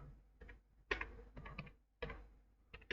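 Bursts of keystrokes on a computer keyboard as a search keyword is typed, quiet clicks clustered in irregular groups with short pauses between them.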